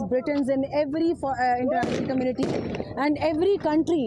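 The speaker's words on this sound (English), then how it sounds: "You can hear the gunshots as well" Gunshots from aerial firing to disperse crowds, several sharp broadband cracks around the middle of the clip, heard under continuous loud talk by a newsreader.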